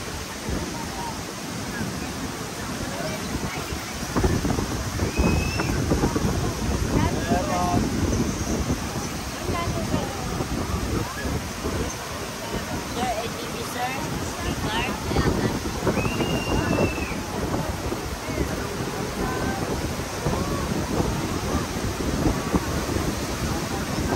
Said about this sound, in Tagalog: Ang lakas ng hangin talaga dito.